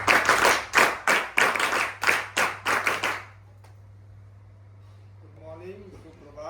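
NCC cadets at a college felicitation give a rhythmic drill-style clap: about nine sharp, evenly spaced group claps in quick succession, then sudden silence before a voice begins speaking.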